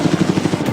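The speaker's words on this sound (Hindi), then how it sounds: "ये हेलीकॉप्टर हमारे बॉयज को ऊपर हवा में ले जाएगा, जिसके बाद वो एक एक करके समुद्र में कूदेंगे।" A helicopter flies over the sea near a private island, its rotor producing a loud, close, rapid rhythmic chop of regular thumping pulses throughout.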